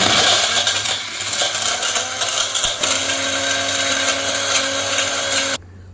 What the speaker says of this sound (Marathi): सगळे यात घालून हे आधी फिरवून घेऊया